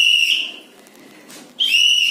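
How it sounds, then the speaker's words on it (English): Two sharp, shrill blasts on a PT teacher's whistle in a classroom setting, loud and close, separated by a short quiet pause. "We have to blow into this whistle."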